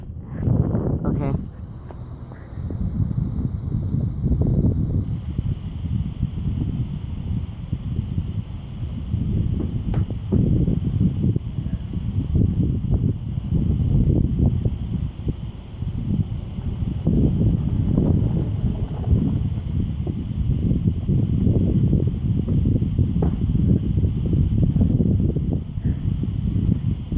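Strong wind buffeting the microphone outdoors on a hot day, heavy rumbling gusts throughout, with a person talking over it.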